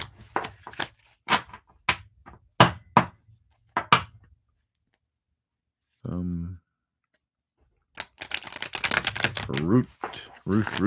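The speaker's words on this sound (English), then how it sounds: "Let's shuffle up for you, Ruth" Quick bursts of card shuffling crackle between spoken phrases, with a short tonal voiced sound in the middle and talk resuming loudly at the end.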